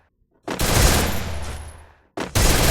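An MP40 submachine gun fires in the Free Fire video game: a loud, rapid burst lasting over a second, a brief pause, then another burst begins, with no one talking.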